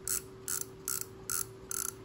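Line-clicker ratchet of an older Japanese Daiwa fishing reel, heard as five short, evenly spaced bursts of rapid, close clicking with quiet gaps between.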